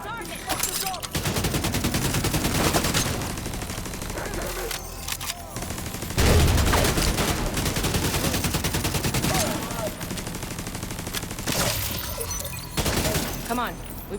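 Dense, sustained automatic gunfire from The Division 2 pounds away almost continuously, with heavy booming impacts and brief pauses between bursts, while voices speak over the firefight.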